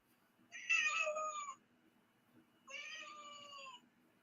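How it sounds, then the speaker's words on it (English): A cat meows twice, two drawn-out, wavering calls about two seconds apart, faint against a quiet background with no talk. "The meow."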